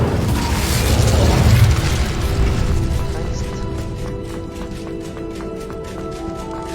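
A fire spell goes off in Hogwarts Legacy, a loud whooshing burst that swells over the first two seconds and then settles into a crackling roar with a faint rhythmic ticking beneath it.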